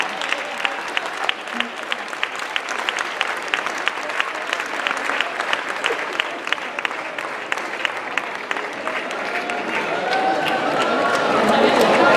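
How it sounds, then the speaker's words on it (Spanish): Rhythmic clapping from an audience at a handball awards gala, a steady beat of claps that swells louder toward the end with some crowd noise. "Un fuerte aplauso para él."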